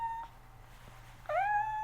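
A new female kitty on her way to the vet to be spayed gives one clear, rising meow near the end after a faint earlier cry, close and distinct over quiet background hum.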